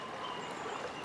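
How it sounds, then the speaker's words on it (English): River water flowing steadily outdoors, a constant broadband rush and trickle with no pauses, fairly close and even in level throughout. "I'll leave you with a bit of a sound of the river"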